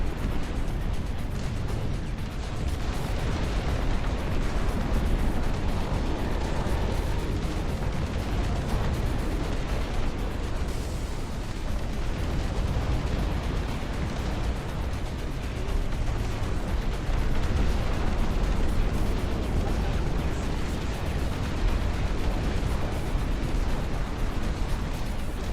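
Incendiary strikes in the RTS game Dust Front burst in a continuous, dense barrage of heavy explosions and crackling fire that rumbles loudly and steadily for the whole stretch, with no talk over it.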